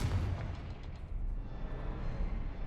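Confringo fire spell blasts in the Hogwarts Legacy video game, a continuous low rumbling boom with heavy bass and a crackling burst at the start, loud and steady with no talk over it.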